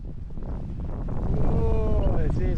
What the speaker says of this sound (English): Oh, it is windy today,